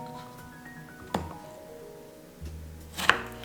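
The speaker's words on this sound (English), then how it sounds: "next let's cut the tomato in half" A knife cuts a tomato in half on a chopping block, giving a few soft, close thuds against the board in a quiet kitchen.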